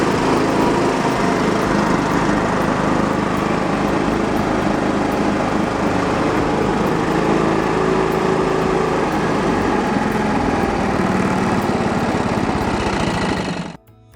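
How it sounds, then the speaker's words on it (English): A John Deere L120 lawn tractor with a 20 horsepower Briggs and Stratton engine runs at a steady, loud drone with a dense rattling buzz, holding level throughout before cutting off abruptly at the very end. "The John Deere L120, with its 20 horsepower Briggs and Stratton engine and hydrostatic drive, feels like something built to last."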